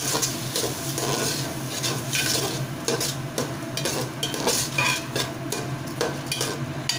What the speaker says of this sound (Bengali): গ্যাসটাকে ফুল ফ্লেমে দিয়ে ভালোভাবে মিক্স করতে হবে এবং একটু ভাজা ভাজা করতে হবে